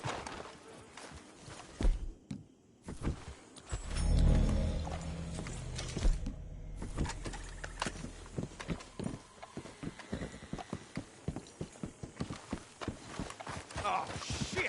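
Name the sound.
horses walking, hooves clip-clopping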